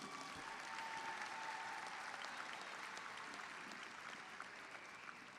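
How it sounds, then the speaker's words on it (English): Graduates applaud their families in the stands at a high school graduation ceremony, a broad, continuous wash of clapping from a large crowd, heard at a distance and fading slightly toward the end. "please look up in the stands at your parents, your families, and others and applaud them"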